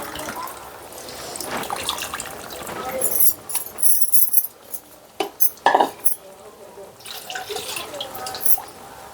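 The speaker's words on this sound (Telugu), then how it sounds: "చింతపండు నీళ్ళు కూడా పోసేసుకుంటా కొద్దిగా" Tamarind water poured into a dry fish and radish curry splashes softly in a pot. Several sharp clinks of a utensil follow, with low background noise and no clear speech.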